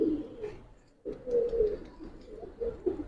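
A silver female Giribaz pigeon cooing close by in a few soft, throaty bursts, broken by a brief pause, with no talking.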